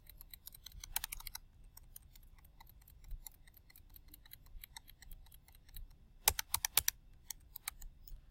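Calculator buttons pressed while entering numbers, sparse light plastic clicks with brief quick bursts of several presses, close and fairly quiet over a soft background hiss.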